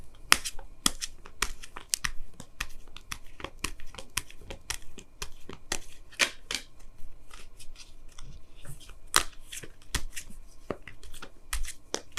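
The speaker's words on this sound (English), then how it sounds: "Let me go ahead and pull you guys your Wisdom of the Oracle card for the week." Oracle cards shuffled and pulled for a tarot reading, a steady run of crisp, close card snaps and riffles with papery rustling between them, no talking.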